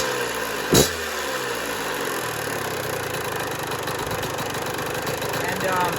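A two-stroke engine running at a steady, fast idle close up, one sharp blip near the start, then a constant buzzing drone with a slight lift at the very end.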